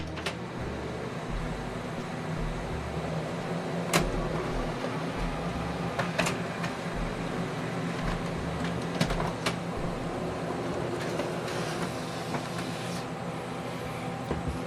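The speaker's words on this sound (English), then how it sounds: "Here we go, document is printing." An HP Colour LaserJet printer prints a document with a steady mechanical whir and hum, broken by a few faint clicks and low rhythmic thumps of the paper feed.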